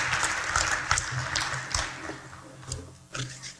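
A crowd claps for a high school Hall of Fame class at a Frankfort induction ceremony, a moderate, uneven round of applause that swells and dips, with a low voice-like hum beneath.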